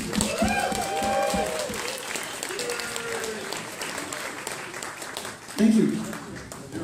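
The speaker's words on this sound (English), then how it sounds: "I think you deserve a round of applause" An indie game showcase audience applauds a project mentor, a moderate round of clapping with voices talking over it, a brief louder vocal burst near the end.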